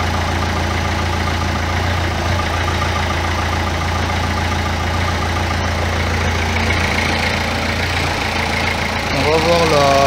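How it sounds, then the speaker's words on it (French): A Renault Clio 3 1.5 dCi diesel engine idles steadily with its air-conditioning compressor running, a constant low hum and rattle heard close up throughout, with a faint rising whine near the end. "On va voir la poulie, l'embrayage du compresseur, il fonctionne."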